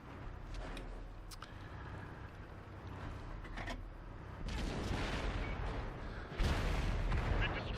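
Heavy cannon shots boom from a Chieftain tank in a tank video game, two broad blasts a couple of seconds apart, the second sharper, over a low rumbling battlefield ambience.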